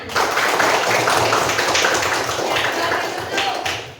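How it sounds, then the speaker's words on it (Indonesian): Sustained classroom applause, many hands clapping together in a dense, steady patter that fills the whole clip. "Beri tepuk tangan."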